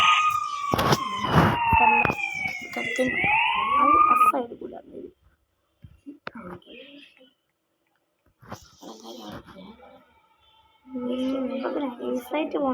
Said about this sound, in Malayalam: അയ്യോ പോലീസ് പോലീസ്. സൈറൻ നമ്മളുടെ ബാക്കിലുണ്ട്.